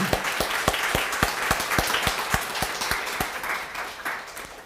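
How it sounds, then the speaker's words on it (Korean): A church congregation gives a round of rhythmic applause, the claps falling in a regular, evenly spaced beat that fades slightly near the end, with faint voices underneath. "우리 수고했다고 다들 박수"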